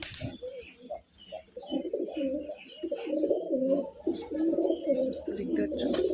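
Pigeons coo steadily in a loft where male birds sit on eggs, a layered, throaty murmur from several birds close by that runs through the whole stretch with no talk.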